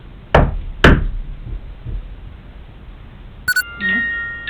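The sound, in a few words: knocks heard in a haunted hotel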